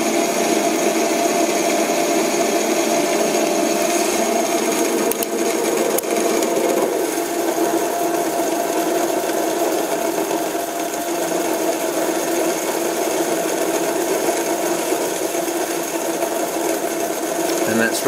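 A Hobbymat 65 lathe runs under electric power at 460 RPM, turning stainless steel. Its steady mechanical whine and hum hold close and continuous, with a faint cutting rasp and no change in pace.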